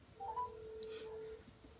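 Phone dialing tones play over a speakerphone, a few short beeps followed by a steady tone like a ringback, with faint room noise underneath.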